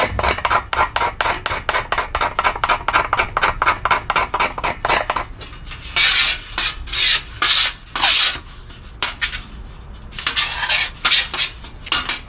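A blade scraping wood into tinder for a firestarter, rapid rhythmic rasping strokes close up, then slower, harsher scrapes in separate bursts, with no talk.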